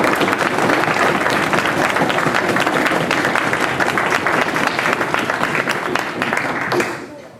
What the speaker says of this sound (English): I'd like to call for a round of applause for all the teams who have made it so far.